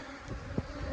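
Honey bees buzz steadily at close range during a honey harvest from strong West Texas hives, a dense continuous drone with a few louder passes.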